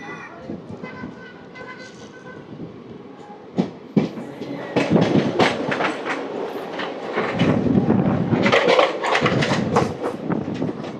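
The 17249 Tirupati–Kakinada Town Express is heard running near Anaparthi, with a steady rumble under rhythmic wheel clatter that grows louder and denser midway. A voice talks faintly at the start.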